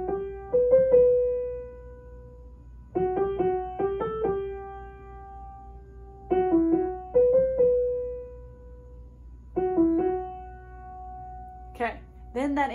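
Solo piano plays a simple repeating figure at full speed, in short phrases with brief gaps and a faint voice at the very end.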